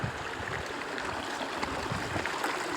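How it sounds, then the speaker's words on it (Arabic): Flash-flood water rushes steadily down a waterfall in a wadi, a continuous broadband roar that fills the whole stretch without pause and with no voices. "شلال."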